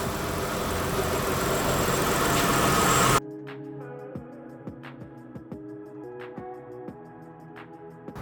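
A 2004 Mitsubishi Eclipse 3.0 V6 fitted with a cone cold air intake idles with a low, even rumble; a burst of loud broadband wind or handling noise covers the first three seconds before the engine is heard alone.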